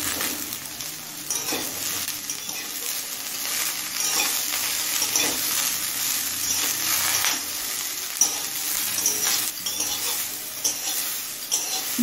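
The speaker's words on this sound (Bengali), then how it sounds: "ব্রোকলিটা মিনিট 2 হাই ফ্লেমে ভেজে নিয়েছি।" Broccoli fries on high flame in a pan after onions, giving a steady, loud, dense sizzle throughout, with occasional stirring scrapes and faint clinks of the pan.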